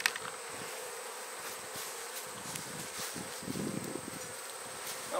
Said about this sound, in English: Okay, so we're opening up the hive here.